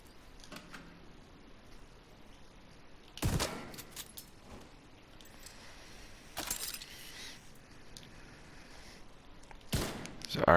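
Sniper turret in The Division 2 firing three sharp, widely spaced shots over a quiet combat background, each crack loud and close with a short tail.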